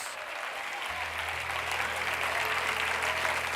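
Applause from a large audience at a church women's conference, a broad, continuous wash of clapping that swells slightly and stays steady, with a low sustained organ or keyboard tone entering underneath.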